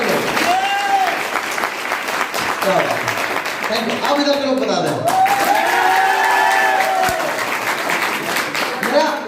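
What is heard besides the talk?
audience clapping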